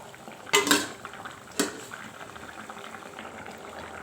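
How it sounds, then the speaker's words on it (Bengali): A curry gravy for an egg and potato dish boils with a continuous bubbling simmer, broken by two sharp metallic pot-and-utensil clatters as fried eggs go in, with no voices. "ঝোলটা ফুটে গেছে, এখন দিয়ে দিব ভেজে রাখা ডিম।"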